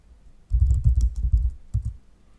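A computer keyboard is typed on in a quick run of close, loud keystrokes over about a second, followed by a couple of final taps while entering a Kali Linux terminal command.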